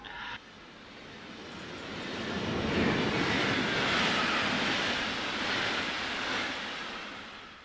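A train running in Train Simulator 2020, a regional RE 3380 service from Bremen to Osnabrück in a 1997 scenario, gives a broad rushing roar that swells in the middle and then eases.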